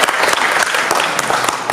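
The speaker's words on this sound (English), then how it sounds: "Round of applause for the great collection" A room full of people breaks into dense, steady applause for a collection at a community gathering, the clapping close and loud and filling the whole short moment without a pause.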